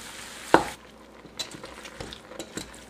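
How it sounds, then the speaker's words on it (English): Three pounds of ground meat for lumpia brown in a pan with a soft, steady sizzle, broken by a sharp scrape of the spatula and lighter stirring clicks. "I'm still browning the meat."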